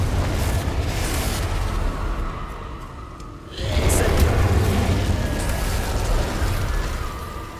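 Bombarda explosion spell in Hogwarts Legacy bursts midway with a heavy boom that swells out of steady battle noise and lingers as a loud rumbling blast.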